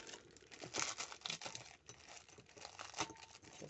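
A plastic zip bag crinkles and rustles close up in continuous crisp bursts with no voices.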